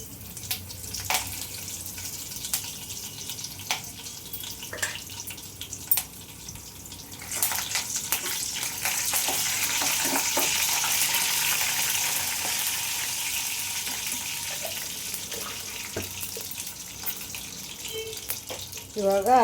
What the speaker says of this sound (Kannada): ಆಮ್ಯಾಗ ಸಾಸಿವೆ ಹಾಕ್ತೀನಿ ನೋಡ್ರಿ. ಕರಿಬೇವಿನ ಸೊಪ್ಪು ಹಾಕ್ತೀನಿ.